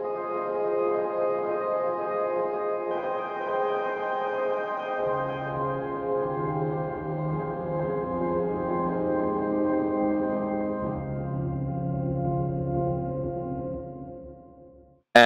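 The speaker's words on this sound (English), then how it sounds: "it's basically sounds like this piano note, but frozen in time" A granular, frozen piano note sample is played as sustained chords that change a few times, smeared and shimmering tones that hold and fade, with no voice present.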